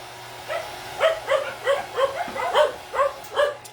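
A dog barks repeatedly in a steady series of sharp, evenly spaced yelps, nearby and moderately loud.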